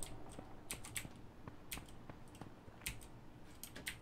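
A broken computer keyboard clatters under rapid, uneven typing and clicking during H1Z1 play, its sharp close taps coming in irregular bursts over quiet background noise.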